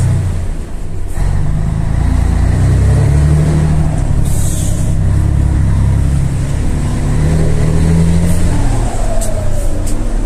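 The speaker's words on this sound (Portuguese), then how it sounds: "Olha que ronco bonito, cara. Ele engrossa o ronco, você viu?" Deep car engine roar through a 10-inch exhaust, a loud low rumble that swells and thickens continuously for the whole stretch, close by with no talk over it.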